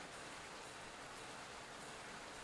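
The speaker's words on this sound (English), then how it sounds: "apparently it's raining, or that's a really loud ceiling fan." Steady rain from the video game The Adventure of Pubesquatch, a dense even hiss that fills the scene without a break, with no voices over it.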